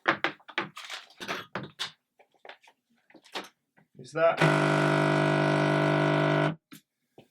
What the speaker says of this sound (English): if I switch it over to the shaker to clean the filter, it gives that weird noise